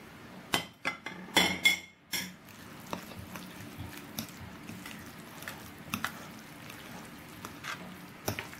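Guacamole with tomatoes and onion being mixed in a bowl: a few sharp clinks of utensil against the bowl early on, then softer irregular scraping and squishing strokes with occasional taps, close and alone.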